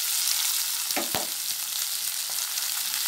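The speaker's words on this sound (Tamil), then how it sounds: "சேர்த்து லைட்டாக வதக்கலாம்" Onion, green chili, curry leaves and coriander sautéing in hot oil for a tapioca dish, a steady bright sizzle throughout with a couple of sharp spoon scrapes and stirs near the start, no talking.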